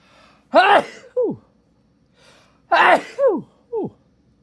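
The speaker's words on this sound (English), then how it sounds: "Ah, it feels so good to sneeze." Two sneezes from one person, each a sharp burst followed by a quick breathy tail, separated by a couple of seconds of near silence and heard up close.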